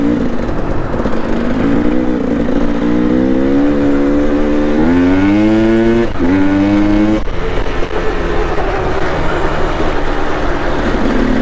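KTM 300XC two-stroke dirt bike engine revving at a trail stop in Utah, a loud buzzing drone that climbs in pitch through several rising pulls before dropping back to a steady idle, heard close with no talking.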